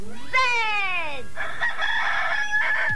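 A cartoon rabbit pulled from a magician's hat crows like a rooster, a loud close rising-and-falling call lasting about a second, followed by a sustained bright squawking cry; a voice produces the crow as an imitation of a rooster.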